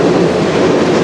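A train rolls past on the Strathroy Subdivision rail line near Sarnia, a loud, steady rumbling roar of wheels and cars filling the whole moment without any voices.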